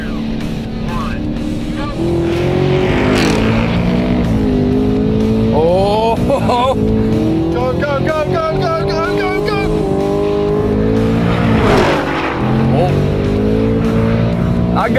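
2024 Ford Mustang GT with a V8 accelerating hard in a roll race against a Camaro SS 1LE, engine roaring loudly and rising in pitch through gear changes, heard from inside the car with excited voices over it.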